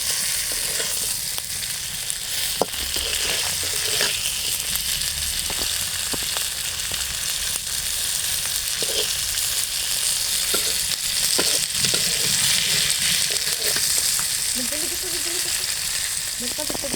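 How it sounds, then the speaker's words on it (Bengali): Onions and hot Indian chilies frying in a pan in a village kitchen, a steady loud sizzle throughout with occasional stirring scrapes and faint background sounds. "পেঁয়াজগুলো ভালোভাবে ভাজা হয়েছে, মরিচটাও ভালোভাবে ভাজা যাক।"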